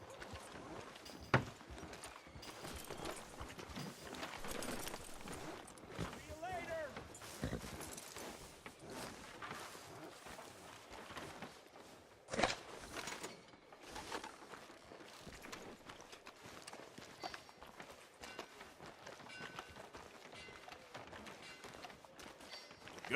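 Horse hooves clip-clopping on a town street in Red Dead Redemption 2, soft irregular hoofbeats under ambient game sounds, faint and intermittent with occasional sharper clicks.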